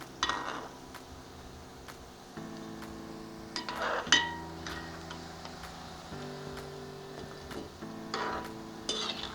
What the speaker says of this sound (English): at this point you can now turn your doughs to the other side for the other side to also